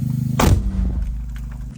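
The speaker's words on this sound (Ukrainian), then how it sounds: "Постріл!" A single loud, deep blast of a mortar shot fired close by, over a low engine hum.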